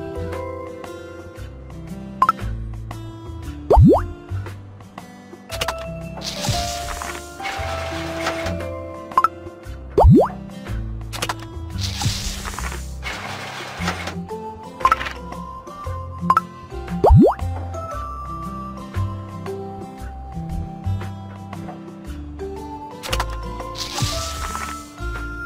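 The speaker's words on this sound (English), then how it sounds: "Let's add syrup to the candy mold." Syrup goes into a candy mold in the Baby Panda's Candy Shop game as a series of cartoonish plops and drips at irregular intervals, with occasional clinks and bright chimes over soft background music.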